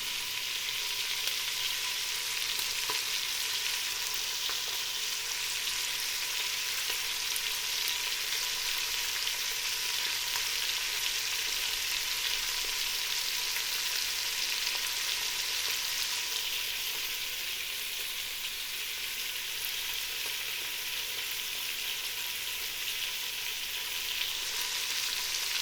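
Pork stew pieces browning in a hot pan, a steady close sizzle and crackle of frying meat that continues evenly throughout with no talk.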